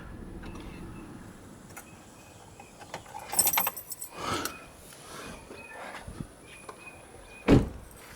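Keys jangle as a 2016 Chevrolet Suburban LTZ is shut off, a brief metallic rattle among soft interior clicks and rustles, with one sharper thump near the end.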